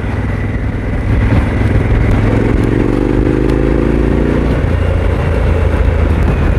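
A Harley-Davidson Pan America motorcycle engine roars loudly and steadily as it accelerates in fifth gear, its pitch climbing, then settling into a constant high drone with wind noise.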